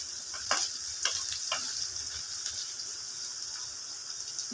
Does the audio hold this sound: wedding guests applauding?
no